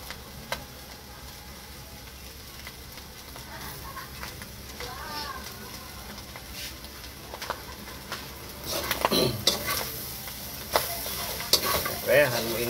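Sisig of ground pork with mayonnaise being stirred in a frying pan, a steady scraping and sizzling that grows louder and busier toward the end, with sharp utensil clinks against the pan.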